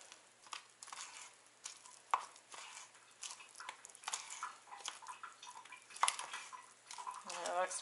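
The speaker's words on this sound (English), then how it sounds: "we're going to just stir it real good. Make sure we get all that dryness" A spoon scrapes and clinks steadily inside a cup while stirring a Duncan Hines keto cake mix batter, close and continuous, with no talk.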